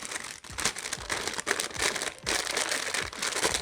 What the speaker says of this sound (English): I'll pop them in a plastic bag